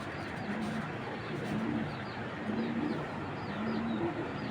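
A racing pigeon coos in a low, repeated rolling call, about four soft phrases spaced evenly, heard close over a steady background hum.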